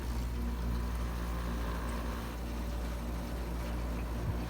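A Friedrich window air conditioner runs steadily with a constant low motor hum and broadband fan whoosh, close and even throughout, with no talking.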